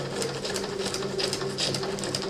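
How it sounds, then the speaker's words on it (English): Sewing machine stitching a rough circle through glittery plastic paper with white thread, a steady, fast mechanical whir with fine needle ticks, close and continuous throughout. "I'm about to just sew a circle in my plastic"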